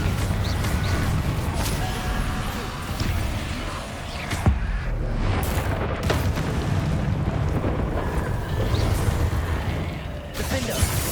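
Confringo fire spells from Hogwarts Legacy explode in a dense, continuous roar of blasts and crackling impacts, loud and close throughout with no clear gaps.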